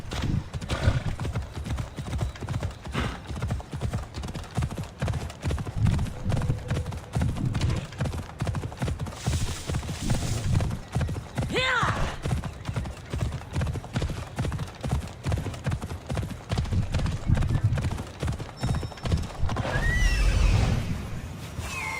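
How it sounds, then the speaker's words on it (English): A horse in the Assassin's Creed Odyssey video game clip-clops steadily through the whole stretch, hooves close and even, with a couple of short neighs and whinnies breaking in over a low game ambience. "ये मेरा घोड़ा है।"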